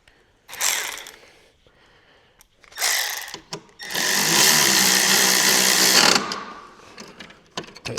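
Nuts are tightened on a 2008 Polaris IQ 700 snowmobile in a repair setting. There are bursts of clicking ratchet, two short ones, then a longer sustained run of about two seconds, with quieter handling noise between them.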